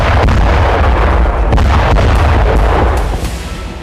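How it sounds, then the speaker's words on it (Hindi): Loud, sustained blast rumble from a Ratel ground drone detonating under a bridge in the Donetsk area during wartime fighting, a dense roar that holds steady and then tails off slightly near the end. "डोनेट्स्क में यूक्रेन ने रातेल ड्रोन से इस तरह से धमाका किया।"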